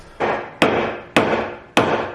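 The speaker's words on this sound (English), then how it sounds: "I just started hammering it in." Four sharp, evenly spaced hammer blows strike wood while framing a doorway during a kitchen renovation. Each blow lands close and loud, followed by a short ringing decay.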